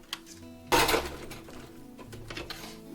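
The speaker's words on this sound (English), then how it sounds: "Stick it back in the machine and zigzag." A sewing machine zigzag stitches a sock into doll clothing, a short dense burst of mechanical rattling after a faint tick, then lighter intermittent clicks and whirring, close and fairly loud with no talking.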